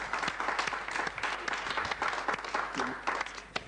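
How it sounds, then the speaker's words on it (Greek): Live concert audience at a 1986 show clapping, dense applause with sharp individual claps throughout, steady and moderately loud, with faint voices mixed in. "Εδώ χειροκροτάω και εγώ."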